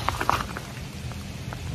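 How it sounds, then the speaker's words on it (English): Rain falling at a trailside campground, a soft steady patter with a few sharper drops at the start, fairly faint and with no voices. "it'll stop raining and then sprinkle and stop raining and sprinkle"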